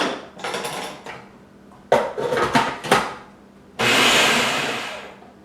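A kitchen blender runs a brief pulse after clattering and knocking of the jar, then gives one more steady whirring burst near the end.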